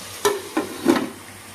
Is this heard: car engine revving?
no